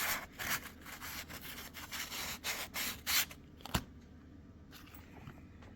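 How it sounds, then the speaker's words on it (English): Sandpaper rubs back and forth over a wooden handle for a homemade medieval mace built from repurposed scrap, a run of rhythmic close scratchy strokes that thin out toward the end with a sharp knock. "I got it sanded down pretty good"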